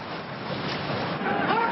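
Rough sea swell and gusting wind during a rainy sailing race, a dense steady roar of surf and wind buffeting the microphone, with faint tonal whines near the end.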